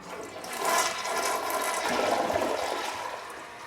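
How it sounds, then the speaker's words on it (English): A toilet flushes with a steady rushing, gurgling water sound that swells and holds for several seconds, fairly loud and close, with no talking over it. "whether when it's flushing it actually makes little droplets and vapor that go everywhere"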